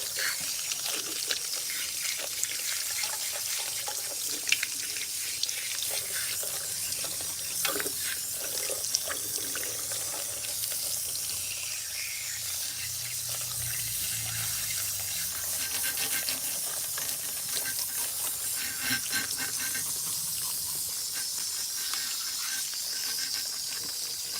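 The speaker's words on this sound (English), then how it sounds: "what we're doing is rinsing her relaxer" A salon sink tap runs steadily as relaxer is rinsed out of a client's hair, a continuous close hiss of flowing water with faint splashing and scraping as hands work through the hair.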